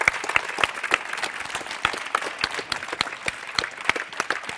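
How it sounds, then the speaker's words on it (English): Audience at a FameLab science-talk competition heat in Geneva applauds the winners, with distinct individual claps standing out in a moderately sized crowd, steady and fairly close throughout. "Big round of applause for the winners."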